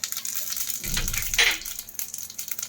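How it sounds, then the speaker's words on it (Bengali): Cumin seeds hit hot oil in a pan where black gram lentil vadis have just fried, giving a sharp crackling burst over a steady, bright sizzle that continues throughout. "এবার জিরে ফোড়ন দিয়ে দেওয়া হচ্ছে"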